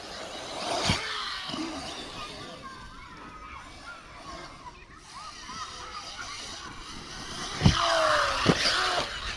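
A Hobao Hyper VS2 4S RC car with poor tyres jumping off ramps at an outdoor track, a high motor whine rising and falling with two sharp thuds of landings near the end, enthusiastic crowd noise in the background.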